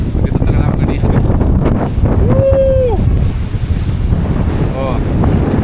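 Strong wind buffets the microphone on the summit of Nipana Shinzan, a heavy, continuous roar with gusting surges throughout, while a faint whistle-like tone rises briefly in the middle and a person speaks briefly.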